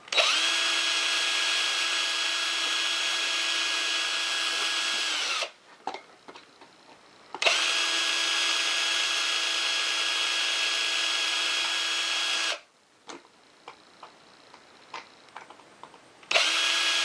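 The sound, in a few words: power drill drilling through wood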